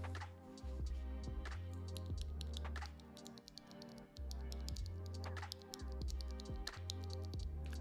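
Fingers type on a mechanical keyboard fitted with TTC Holy Panda switches, producing quick bursts of close, clacky keystrokes with a deep, heavy thock, pausing briefly before resuming; no one speaks.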